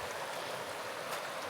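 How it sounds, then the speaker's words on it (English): Water in a stream flowing at a creek crossing on a hike in northern New Mexico, a steady gurgling rush heard close by and alone, holding at a constant level with no talk. "My first water crossing of the day"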